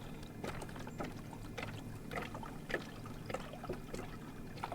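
Water poured from a gallon jug into a container at a lakeside campsite, a steady splashing trickle with uneven gurgles, close and moderately loud, no voices.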